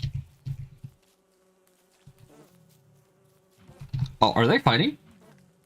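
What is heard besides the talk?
bees buzzing in video game Don't Starve Together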